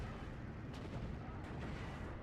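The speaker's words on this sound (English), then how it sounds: "this barrage to the south is going to absolutely pound these anti-tank positions into dirt" An artillery barrage in Steel Division 2 pounds anti-tank positions to the south, a dense, continuous rumble of distant booms and blasts with a few sharper impacts standing out.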